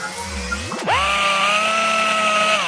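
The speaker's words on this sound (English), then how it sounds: "Play the power tools again." A power tool whirs down then revs up to a loud, steady high-pitched whine that holds to the end.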